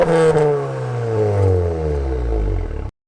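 Crash-damaged Audi S1 quattro with its engine running while it drives, a close, steady engine drone that drops in pitch over about three seconds, with some clatter and whir, then cuts off abruptly.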